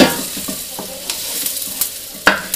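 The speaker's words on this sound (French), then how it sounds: "Je vais le faire cuire jusqu'à ce qu'il ait perdu sa teinte rosée, jusqu'à ce qu'il soit bien cuit et tout marron." Minced beef sizzles loudly in a frying pan while a utensil stirs it, with intermittent scraping knocks against the pan over a constant close frying hiss.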